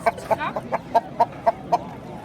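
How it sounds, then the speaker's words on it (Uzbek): A young rooster clucks close by in a quick, even series of about eight short, sharp calls. "Mana yana bitta xo'rozchamiz"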